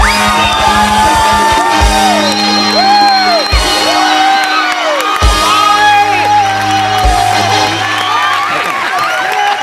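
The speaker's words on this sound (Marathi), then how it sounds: "एकदा जोरदार टाळ्या." A studio audience at a Marathi comedy show cheers, whoops and shouts loudly and continuously, with many excited voices layered together up close.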